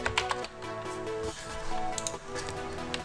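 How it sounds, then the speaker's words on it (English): Rapid clicking keystrokes on a computer keyboard as code is typed, an uneven, busy patter of taps close up and fairly loud throughout. "So type in here import rubymod.blocks.rubyblock."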